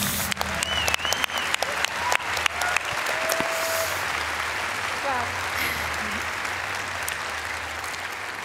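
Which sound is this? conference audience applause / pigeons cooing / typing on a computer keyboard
conference audience applause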